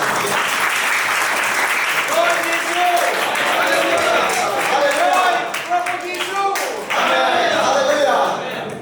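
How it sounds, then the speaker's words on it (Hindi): An audience in a church gathering in Kolkata applauds to welcome a general superintendent, steady loud clapping with voices calling out over it. "आपका जगह से खड़ा हो जाएंगे, स्वागत करिए तालियों से।"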